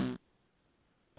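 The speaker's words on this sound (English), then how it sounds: "I put in the fart noises." A short, loud fart sound effect from a commercial bursts out at the start, then cuts off abruptly into near silence.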